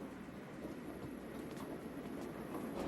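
A cartoon train runs fast along the rails as a steady, continuous rumble with soft clatter, heard on its own at a moderate distance.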